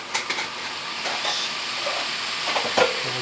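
Soy sauce poured into a pan of sizzling chicken and mushroom curry, giving a steady hiss with a brief louder spatter near the end, no talking.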